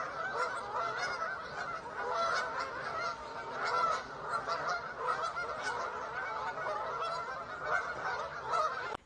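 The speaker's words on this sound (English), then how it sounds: "could just see on this body of water geese flying in, geese taking off" Large flock of geese on a body of water beside a canal towpath, honking continuously in an overlapping, busy chorus as birds fly in and take off, fairly close and steady throughout.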